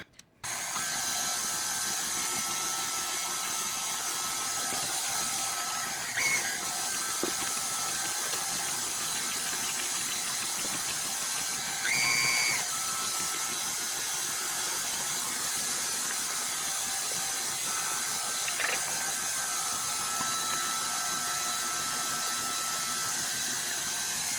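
An electric mixer blends mocha cupcake batter with flour mixture and coffee mixture, a steady, even whir running throughout at moderate level with faint scraping ticks, no talking.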